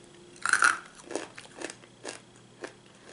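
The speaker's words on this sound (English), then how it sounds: "here are the corn kernels. They are very good, very crunchy." Crunchy corn kernels being chewed close up, a sharp bite followed by four or five crisp crunches in an uneven rhythm, with no voices.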